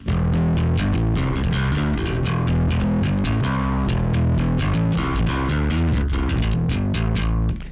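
Heavily distorted instrument tone through a SansAmp-style drive pedal with its presence control turned up, a dense, loud, continuous stream of played notes and chords with no talking.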